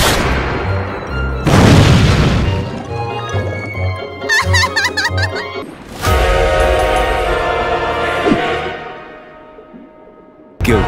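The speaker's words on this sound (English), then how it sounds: "Grenade!" Grenade explosions in a video game, loud booming blasts that hit one after another with rumbling tails, broken up by quieter stretches of ringing clatter and game effects.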